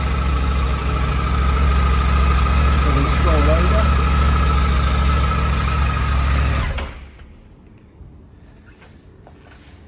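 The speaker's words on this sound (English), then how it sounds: "As you can hear, really nice smooth sounding engine" A 2023 Triumph Tiger 900 GT Pro motorcycle engine idles smoothly and steadily for several seconds beneath a voice, then cuts off abruptly, leaving quiet with faint background noise.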